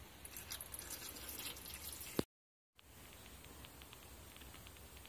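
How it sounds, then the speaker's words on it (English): Very slow water drips from a leaking car headlight that has been partly filled with water to find the leak; faint, sparse ticks over a steady hiss, broken by a brief dropout of total silence. "It's a very slow drip right about where this clip is."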